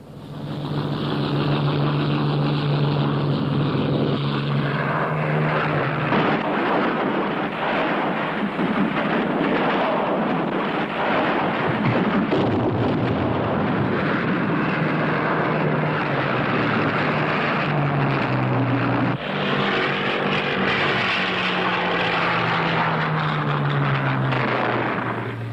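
WWII Allied fighter planes, British Spitfires and American Thunderbolts, taking off in a rush: a continuous loud roar of piston engines with rising and falling drone, dense and steady throughout with no voices.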